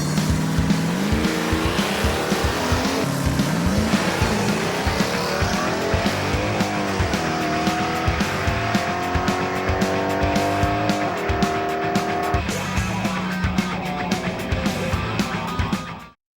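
A Chevy S-10 truck launching repeatedly at an eighth-mile drag strip: loud racing engine revving and climbing through gears, with bursts of tire noise and rapid crackling over sixteen seconds of sustained, close engine roar.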